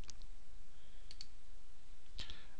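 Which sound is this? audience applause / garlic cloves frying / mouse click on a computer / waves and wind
mouse click on a computer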